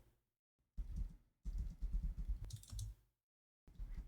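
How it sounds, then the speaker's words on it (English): Bursts of rapid clicking keystrokes on a computer keyboard, recorded close and fairly quiet, arriving in short clusters with silent gaps between them. "This is probably like typing on a keyboard."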